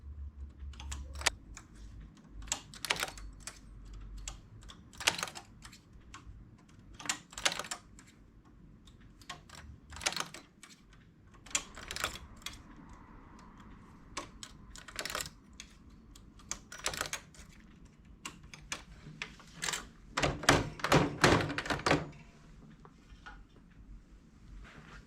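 Stitches are transferred on a flatbed knitting machine with sparse, irregular clicks and clacks of metal parts, close and fairly faint. Some pauses fall between the clicks, and a denser burst of rattling comes toward the end.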